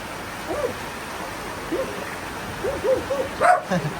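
A dog gives several short, soft barks or yips at a distance, scattered irregularly over steady background noise.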